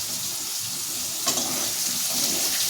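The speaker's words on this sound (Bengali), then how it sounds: "মশলাটাকে লাল লাল করে ভাজবে" Spices frying in a pan, a dense, steady hiss of sizzling throughout with a brief scrape of stirring near the middle, close and fairly loud.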